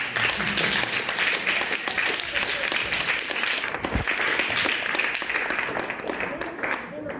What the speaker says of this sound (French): C'est moi qui applaudis